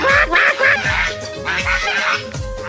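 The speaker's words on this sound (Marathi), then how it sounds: "बघ इथं कबूतर आहेत आणि पान कोंबड्या आहेत" Water hens and pigeons call at a farmhouse, with honking, quacking bird cries repeating in a loose rhythm at close range. The calls come alone, with no talk.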